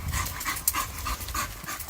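A large, very strong dog panting heavily and rapidly, close and loud, with a brief whimper-like catch partway through and no speech.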